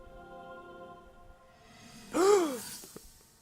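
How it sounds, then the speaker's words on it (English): A single voiced gasp rises sharply in pitch after a stretch of quiet background tones, brief and fairly close, with no other talking. "I had to do the gasp."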